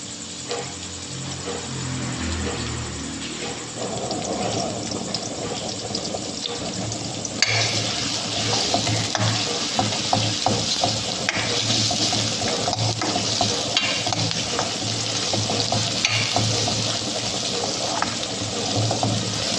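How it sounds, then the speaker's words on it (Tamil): Onion fries in a pan for a gravy, a quiet sizzle at first that swells into loud, continuous crackling with repeated scraping stirs, close up and without talk. "ஸோ ஆனியன் குக் ஆகட்டும்"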